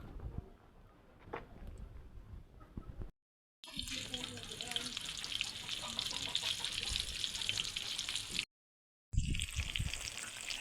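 Chicken frying in oil in a pan for Egyptian-style cabbage mahshi: a steady bright sizzle that starts and stops, and a murmured voice with low clattering in the quieter stretches.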